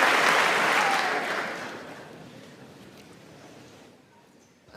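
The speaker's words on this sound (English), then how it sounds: "He's clapping." An audience applauds in a hall, loud at first and then fading to scattered clapping before a sudden noise at the end.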